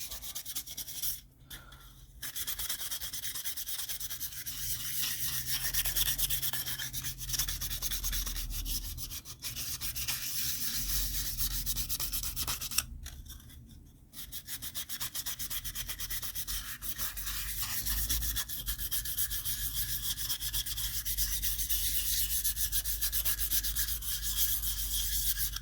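Sandpaper rubs back and forth across a piece of perspex in a long run of steady scratchy strokes, close and moderately quiet, broken by two brief pauses.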